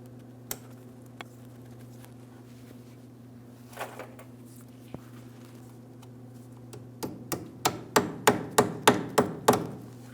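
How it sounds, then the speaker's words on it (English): A small hammer taps a metal clip into place on a 2007-2014 GMC Sierra 2500 HD rear brake hose, first a few isolated knocks, then a quickening series of sharp, loud strikes close up over a steady low hum. "You can use a small hammer if necessary."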